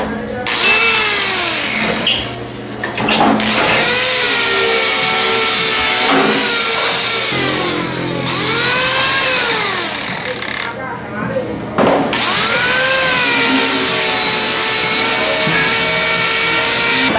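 Buffing machine polishing a welded metal pipe with buffing soap, a loud continuous motor whine rising and falling as pressure changes, close by, with someone talking over it.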